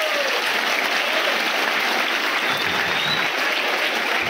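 A large crowd at a pesantren motivational event claps loudly and continuously, a dense wash of applause that stays strong throughout with a few voices underneath.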